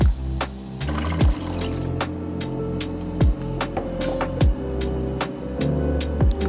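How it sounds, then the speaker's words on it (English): Water runs into a cooking pot holding pork in a home kitchen, a steady pour broken by short clunks and pauses over a low appliance hum. "I'm just gonna put the pork in here and fill it with water."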